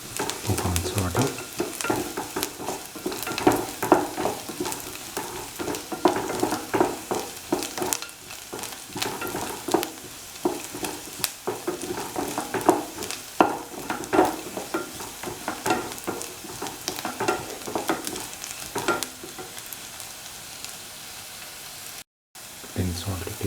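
Ingredients for a scrambled egg chipotle toast sandwich sautéing in a pan, with irregular stirring scrapes and clatters over a low sizzle, close and busy, with a voice speaking now and then.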